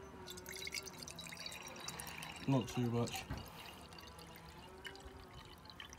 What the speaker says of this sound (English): pour some water in here